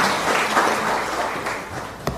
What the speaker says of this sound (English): let us give them all a big round of applause.